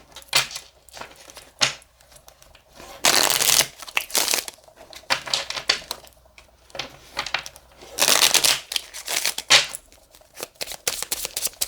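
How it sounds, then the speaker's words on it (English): Tarot cards being shuffled by hand in bursts of riffling and sliding, with two longer dense rustling passes and scattered shorter flicks, close and fairly loud with no talking. "Do a shuffle of these, and then we'll pull some of these too."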